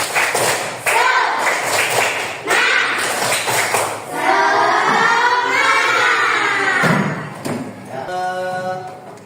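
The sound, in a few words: class doing the rhythmic spirit clap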